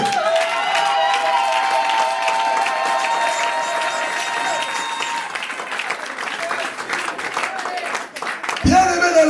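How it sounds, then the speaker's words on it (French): A church congregation applauds in praise together, sustained dense clapping filling the room with voices and music mixed in, ending with a brief pause. "On peut d'abord acclamer pour la gloire de Dieu."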